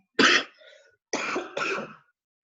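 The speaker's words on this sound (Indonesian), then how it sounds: "Maaf ya, batuk nih." Three close coughs from a man: one sharp hacking burst, a pause, then two rough coughs in quick succession, with nothing else around them.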